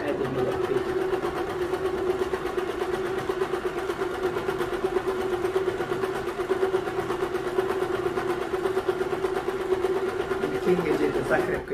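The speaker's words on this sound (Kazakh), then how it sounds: "Енді бұны тігіп шығам мұқият." A sewing machine stitches a tracksuit seam with a fast, even mechanical whir that runs unbroken and close for about twelve seconds, with no pauses and no talk over it.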